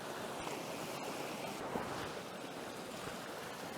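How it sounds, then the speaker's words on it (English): Water cascading down Wyming Brook on either side of a tree bole, a steady, close, full-bodied rush and splash that holds at an even level throughout, with no voices. "the water cascading on either side of the bole of this tree that reaches up"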